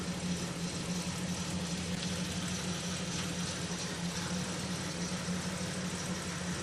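A 2006 Chevrolet Equinox engine idles steadily after exhaust repair work, a low even hum that stays constant and fairly close throughout, with no voices.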